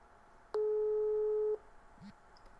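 Telephone tone during a call, a single steady electronic beep lasting about one second, clear and close over quiet line noise.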